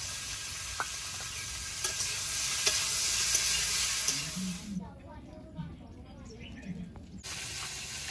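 Drumsticks and tomato fry in a pan with loud, steady sizzling that abruptly cuts out midway, leaving quieter background sounds and faint voices.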